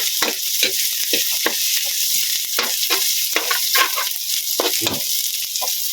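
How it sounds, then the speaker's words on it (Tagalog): Kangkong sautéing in a pan for Chinese-style adobong kangkong, with a steady sizzle of frying under repeated scraping stir strokes, close and fairly loud, no voices. "Haluin natin ang haluin hanggang lumabas na yung aroma niya"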